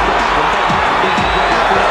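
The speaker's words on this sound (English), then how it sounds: "this crowd rises to its feet and looks for the first round knockout" A boxing arena crowd rising to its feet and cheering during a first-round onslaught, a dense, loud, steady roar of many voices filling the space.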